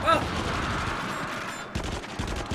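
Flare gun shots in the horror shooter game Until Dawn: Rush of Blood, a burst of loud blasts up front followed by a few sharper gunshot thumps under a dense game soundtrack.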